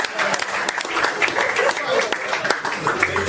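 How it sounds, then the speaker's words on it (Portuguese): A studio audience on a Brazilian TV show breaks into lively applause for a man named Maurício, with steady clapping and voices calling out over it. "Uma salva de palmas pro Maurício."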